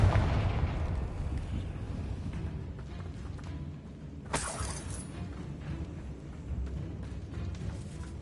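A Confringo blasting spell in Hogwarts Legacy goes off as a sudden sharp explosive crack with a brief shattering burst. It stands out above a quiet rumbling background, then gives way to faint ambient noise.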